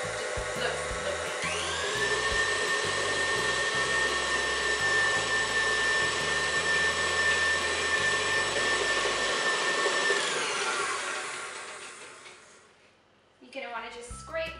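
Electric mixer beating vanilla cupcake batter until white and fluffy, a steady high motor whine running for about ten seconds with rhythmic low knocking beneath, then winding down, followed by a brief voice.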